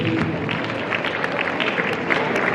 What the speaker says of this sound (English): More, a round of applause, please